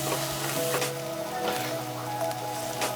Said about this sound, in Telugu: యాడ్ చేసిన వెల్లుల్లితో పాటు తగినన్ని ఎండుమిర్చి యాడ్ చేసుకొని మిక్స్ చేస్తూ ఉండాలి